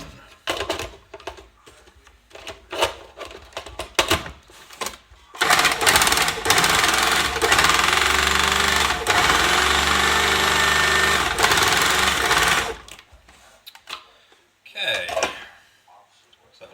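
An electric whisk whirs loudly in a steady, strained drone for several seconds while trying to mix a thick milkshake, framed by clattering handling sounds and a voice speaking before and after.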